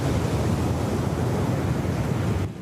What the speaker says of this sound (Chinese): 海涌一直架起来